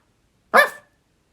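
A person's voice imitates a dog's bark: one short, loud, close bark-like yelp standing alone amid silence.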